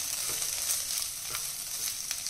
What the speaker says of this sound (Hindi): ऐसे करके ना हम सारी सब्जियों को रोस्ट कर लेंगे, भून लेंगे, बहुत कम घी में